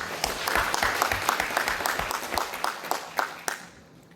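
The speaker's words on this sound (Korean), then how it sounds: "큰 박수로 맞아주시기 바랍니다." An audience applauding at a literary award ceremony in a concert hall, a dense patter of many hands clapping at moderate distance that thins and fades out near the end.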